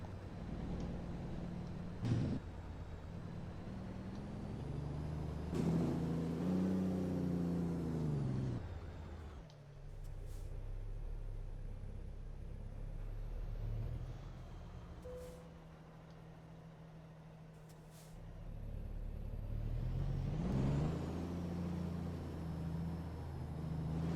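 A Kenworth W900a truck drives along the road, its engine droning low and steady from the cab, with gear shifts where the revs rise and fall and a quieter stretch in between.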